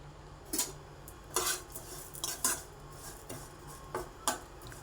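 Semiya vermicelli is stirred in a frying pan, giving sparse, quiet metallic clinks and scrapes of a spoon against the pan at an irregular rhythm, with no talking.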